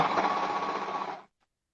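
An overlock sewing machine stitches a hem in fabric with a steady, dense mechanical whir for just over a second, close and fairly loud, then stops abruptly into silence.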